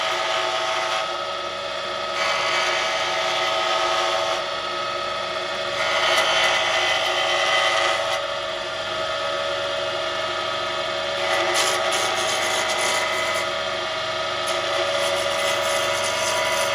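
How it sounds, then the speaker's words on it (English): A lathe spinning an acrylic pen blank as a roughing gouge cuts it down to a cylinder, a continuous close whirring scrape that swells and eases in gentle passes, with no speech. "we're just going to turn down into our acrylic blank into a cylinder, like so, nice and gently"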